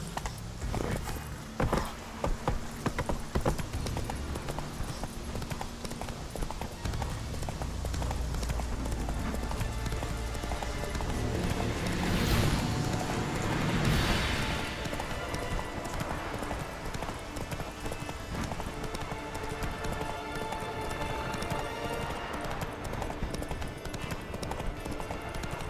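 Horse hooves clip-clopping steadily at a gallop in The Witcher video game, a continuous rhythmic pounding with game ambience, loud and close throughout.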